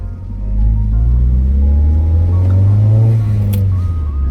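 A Honda SOHC VTEC car with D15/D16 intake manifolds and a worn clutch accelerates on a back road, its engine droning in a low, loud, rising hum with road rumble and no talk.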